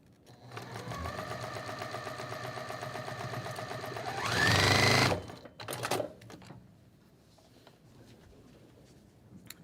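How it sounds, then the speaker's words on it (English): Fast, even stitching of a sewing machine running a quilt block seam, with a rising whine at a brief burst of top speed before stopping, followed by a few soft clicks and handling sounds. "And sew."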